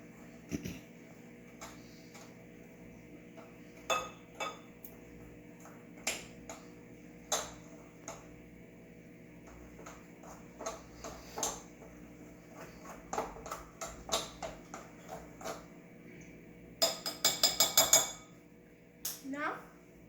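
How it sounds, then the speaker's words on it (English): A utensil stirring cookie dough with baking soda and salt in a bowl, producing irregular light clinks and taps against the bowl, followed near the end by a quick burst of rapid scraping clatter. "Next, you stir it."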